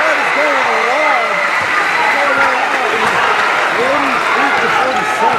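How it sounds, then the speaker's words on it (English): A crowd at a basketball game at the 8th Micro Games, PNI versus CNMI, cheers and applauds in a loud, continuous roar while a commentator talks over it. "The crowd is going wild."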